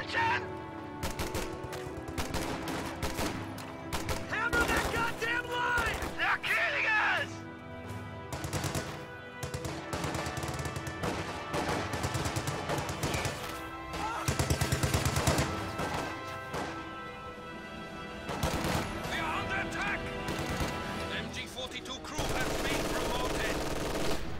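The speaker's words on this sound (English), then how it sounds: "LMG's in the house, continuing to engage the MG42." Light machine guns and an MG42 trade sustained fire in a WWII strategy game battle, with long rattling bursts, explosions and crashes layered densely throughout under a commentator's voice.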